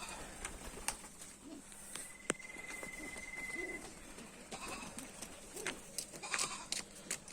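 Pigeons in and around a house, a flock feeding, with soft coos and wing flutters over steady outdoor background noise, some brief sharp clatters and a thin high tone at moments.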